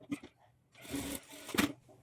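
A sewing machine stitches a blouse shoulder seam in a short, close whirring run, with a voice speaking alongside it.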